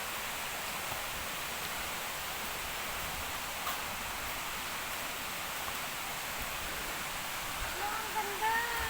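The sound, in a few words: waterfall, Twin Falls in Laguna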